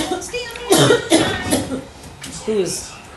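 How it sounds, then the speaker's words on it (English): A run of harsh, close coughs, several bursts in quick succession, followed by a brief voiced throat sound. "I'm having a coughing spell."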